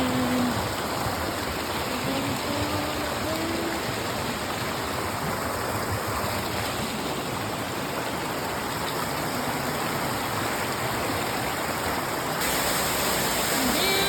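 Steady, broadband rushing of a waterfall over shoals in Georgia fills the scene, constant and fairly loud, with faint voices briefly audible beneath the roar.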